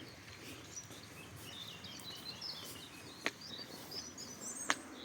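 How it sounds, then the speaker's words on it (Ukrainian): Small birds chirp and twitter outdoors on quiet sanatorium grounds in Truskavets, faint and scattered over a soft ambient background with a couple of brief sharp clicks. "Тиша, пташечки співають."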